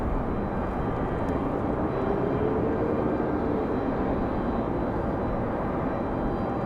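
A Boeing 737 MAX airliner in pink livery, bound for Reykjavik, at Raleigh-Durham International Airport gives off a steady, broad jet rumble that stays even and moderately loud, with no talking.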